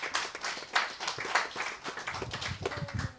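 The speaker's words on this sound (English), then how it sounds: "Come on, clap if you want to clap." Church congregation clapping at a Japanese and English service, with uneven bursts of hand claps from many people at moderate distance and little talk over them.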